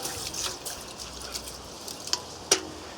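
Coconut charcoal and ion-exchange resin mixture tipped from a glass into a bucket of clean tap water, giving soft scattered trickles and a couple of brief splashy drips, faint and quiet with no talking.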